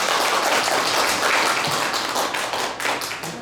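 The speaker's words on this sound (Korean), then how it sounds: "모두에게 박수 치며 마무리하도록 하겠습니다." An audience claps together at the close of a climate crisis emergency action launch event, a dense burst of applause that fades gradually over a few seconds.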